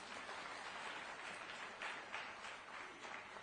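Audience at an awards ceremony applauding to welcome a poet on stage; steady, fairly faint clapping from a crowd, heard at a distance.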